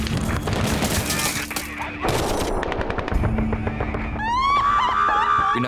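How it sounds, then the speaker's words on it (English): Machine gun fire rattles in a battle in Afghanistan, with rapid bursts and loud bangs following one another, and a rising whistle-like tone cutting through near the end. "And then sort of the machine gun fire started."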